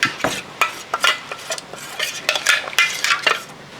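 A utensil stirs and clinks against a blender jar in quick, irregular scrapes and taps, close by with no voices.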